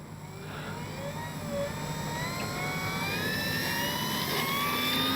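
A Dynam F6F Hellcat RC plane takes off, its electric motor whining steadily and rising in pitch as it climbs and gradually grows louder, with no talk over it.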